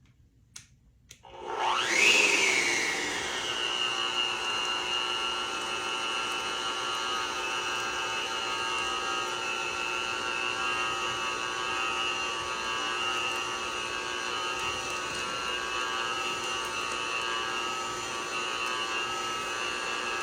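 An electric stand-style cake mixer whirs up after a brief start and runs steadily at a constant, fairly loud pitch, beating a large batch of cake batter with no talk over it.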